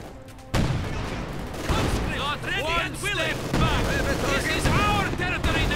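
Bursts of submachine gun fire and explosions from a Company of Heroes 2 battle crackle in rapid, overlapping volleys, mixed with sharp rising whistles and booms, while a commentator talks over the action.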